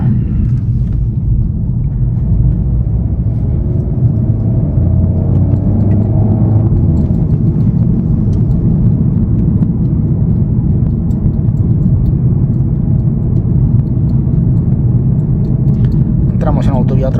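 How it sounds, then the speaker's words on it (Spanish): A VW Golf GTI mk7 Performance with a 2.0-litre turbo engine of about 300 hp accelerating hard, heard from inside the cabin as a loud, deep, steady engine rumble and road roar that holds throughout. "vamos a pegarle un acelerón a ver si sois capaces de distinguir"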